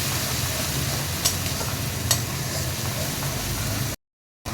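Spices such as turmeric, chili powder and cumin powder fry in hot oil while being stirred in a pan, a steady close sizzle with occasional scraping strokes that cuts off abruptly near the end.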